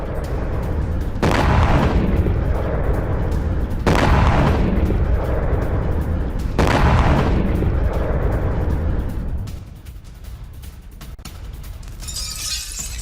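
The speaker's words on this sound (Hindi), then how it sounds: "यूक्रेन ने बरसाया गाइडेड बम। मिग-29 से बरसाया गाइडेड बम, इमारत पूरी तरह से ध्वस्त हुई।" Ukrainian guided bombs dropped from a MiG-29 strike a building in wartime, heard as three heavy, roaring blasts a few seconds apart, each a long rumbling burst, followed by quieter rumble and crackling debris.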